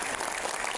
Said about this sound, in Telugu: మీరందరూ ఏకీభవిస్తే ఒకసారి గట్టిగా చప్పట్లు కొట్టాలి.